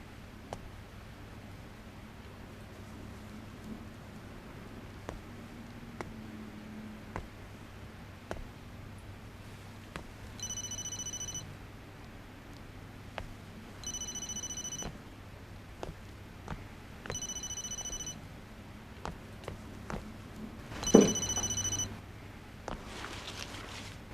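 A phone rings in short repeated electronic bursts, four evenly spaced rings at moderate volume over a quiet room hum, with a brief clatter near the end.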